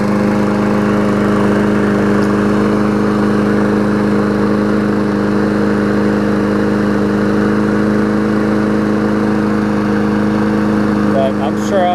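A Murray lawn mower engine runs close and loud at a steady idle, with a constant droning hum and no change in pace across the stretch.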